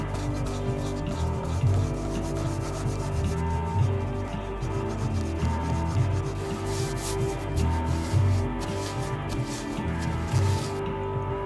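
Steady abrasive rubbing and scuffing on a rubber surface, roughing it up for rubber cement on a 1996 XR bike wheel, a continuous scratchy texture running throughout with no talk.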